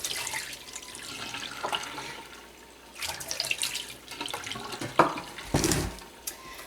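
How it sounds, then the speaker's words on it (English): Hot water is poured and dumped out during hot-process soap making, a sloshing, splashing stream with gurgles and a heavier splash near the end, no talking. "So I'm going to dump out that hot water"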